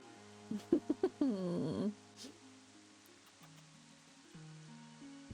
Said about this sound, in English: My cat is back.